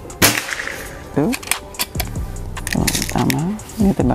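Several sharp, loud gunshots crack in quick succession as a gun is test-fired at close range, each report followed by a short ringing tail, with voices talking in between the shots.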